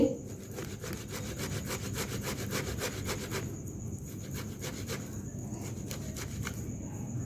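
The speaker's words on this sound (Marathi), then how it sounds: "मी हे बटाटे पूर्ण किसून घेते" Boiled potatoes, cooked only partly, rubbed against a kitchen grater for beetroot cutlets, giving steady rhythmic rasping strokes at close range with no talking.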